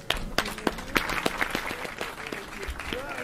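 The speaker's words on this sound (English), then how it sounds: "everybody should be giving him a round of applause" Applause rings out for Daniel Jeffries, the mayoral candidate, on election night, the crowd's clapping dense and steady with sharp individual claps standing out and faint voices mixed in underneath.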